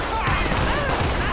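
Gunfire in the Grand Theft Auto V game on PC, during a police patrol with a Ford police car nearby: a dense burst of shots lasting about a second, loud and close, with a voice speaking faintly over it.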